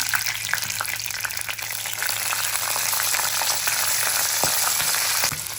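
Mustard seeds and peas fry in hot oil for upma, a loud continuous sizzle with scattered crackles and pops, plus occasional stirring scrapes, with no talking.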